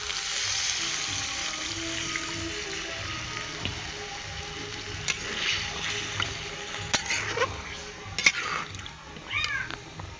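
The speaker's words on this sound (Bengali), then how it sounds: "আলু আর পনির ভালোভাবে মশলার সঙ্গে কষানো হয়ে গেলে দিয়ে দিচ্ছি গরম জল" Hot water poured into a pan of potato and paneer curry frying in spices, a soft hiss and sizzle with scattered clinks and stirring, fairly faint and close, with no speech.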